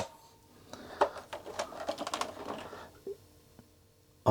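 Clicky keystrokes tapping out in irregular bursts on an Atari computer keyboard, close and fairly quiet, trailing off into a few isolated presses.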